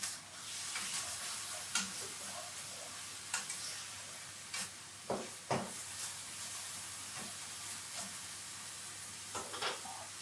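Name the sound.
bacon lardons frying in a pan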